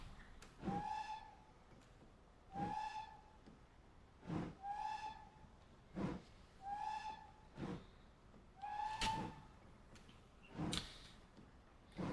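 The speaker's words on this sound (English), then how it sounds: "once you get up to, I think it's 12 mile an hour, that you get the full long blast of the whistle" A heavy freight steam locomotive's whistle in a train simulation game sounds again and again, a run of roughly seven separate, clear blasts spaced evenly over several seconds against a quiet background.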